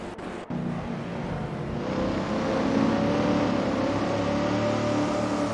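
Race cars in a racing simulator game roar steadily, engines droning and building in pitch as they accelerate, loud and continuous after a brief clipped start with no talking.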